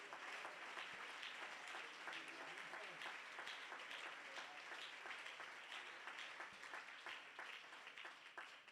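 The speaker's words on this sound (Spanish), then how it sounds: "Dele ese aplauso fuerte al Señor." Congregation applauding during a church convention service, a steady dense wash of clapping sustained throughout at moderate distance, tapering slightly at the end; some voices may mix faintly underneath.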